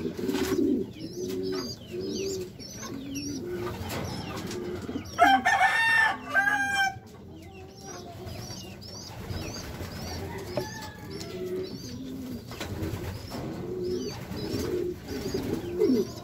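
A racing pigeon coos in low, repeated rolling phrases, with occasional bird chirps and a brief flurry of flapping mid-way, all fairly close.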